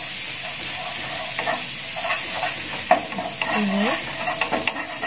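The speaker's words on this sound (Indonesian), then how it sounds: "setelah menteganya cair, kita masukkan bawang putihnya" Garlic frying in melted butter in a pan, a steady sizzle under scraping spoon strokes as it is stirred, with a brief spoken word over the cooking.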